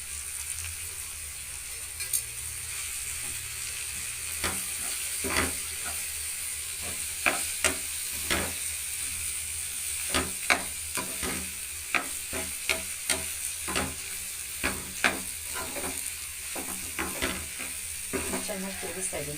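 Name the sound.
stirring mashed potato palya frying in a pan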